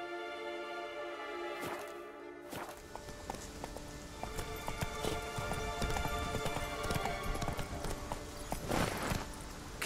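Horse hooves clip-clop steadily in The Witcher 3, a brisk, continuous run of hoofbeats carrying over game ambience, with a faint vocal command and occasional heavier thuds.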